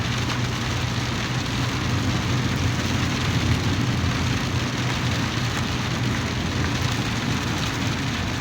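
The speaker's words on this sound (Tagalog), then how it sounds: "Ang lakas talaga ng ulan, no?" Heavy rain pours down in a loud, unbroken roar over a flooded street in Dammam, Saudi Arabia, a steady wash of noise from start to end.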